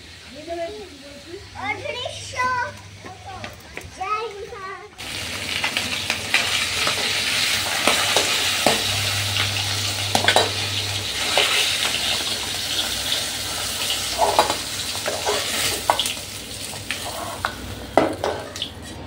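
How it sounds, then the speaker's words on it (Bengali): Beetroot and carrot fry in oil in a pan, a steady loud sizzle that starts after a few seconds of talking and continues to the end, with occasional sharper crackles. "মা এখানে বিট গাজর ভাজাটা বসিয়ে দিয়েছে"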